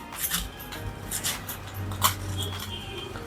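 A knife cuts spring onion finely on a board, a few soft, irregular close taps and slicing strokes, fairly quiet, with no talk.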